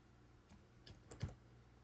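Faint, sparse keystrokes on a computer keyboard, a handful of soft clicks spaced unevenly over a quiet background.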